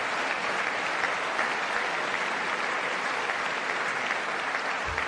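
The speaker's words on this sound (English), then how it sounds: "Come on, stop clapping." Sustained applause from a large audience during a State of the Union address, steady and dense for the whole stretch without a break, with no speech over it.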